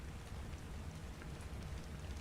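Steady rainfall in the survival game ARK: Survival Evolved, a dense continuous patter of drops filling the whole stretch evenly, with no talk over it.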